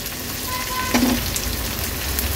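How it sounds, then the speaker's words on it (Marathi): Chopped onion and green chili fry in hot oil with cumin seeds and curry leaves, a steady close sizzle with a brief stir partway through. "कांदा छान तेलावर परतून घ्यायचा आहे"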